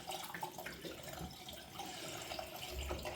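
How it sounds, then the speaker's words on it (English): Running water from a tap as the face is rinsed between shaving passes with a safety razor, a steady splashing wash of moderate level continuing throughout without talk. "rinse the face again for the third pass"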